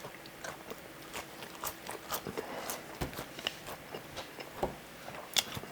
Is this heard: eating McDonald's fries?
yes